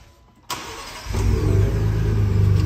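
2021 Ford Bronco V6 with a bolt-on Deberti exhaust kit firing up: a sharp starter crank, then the engine catches into a loud, throaty idle that settles into a steady pulsing rumble.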